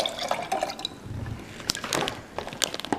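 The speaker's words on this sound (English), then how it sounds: "Put a little bit more water in it." Water pours into a cup in short splashing bursts with a bright trickling fill and a few drips, close by and fairly quiet, without any talk.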